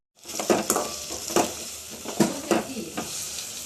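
A spoon stirs garlic, chillies, curry leaves and tomato in a hot pan, giving steady sizzling broken by repeated scraping strokes, close and moderately loud, with no talking.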